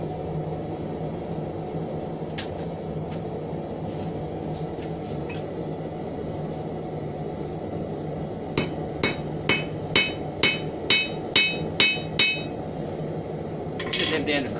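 Horseshoe ends being hammered flat, about ten sharp ringing metal strikes in steady rhythm near the end, with a few scattered lighter taps earlier over a low background hum.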